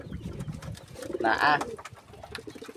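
Pigeons in a loft giving a soft cooing call amid rustling and low background noise, while a person speaks briefly nearby.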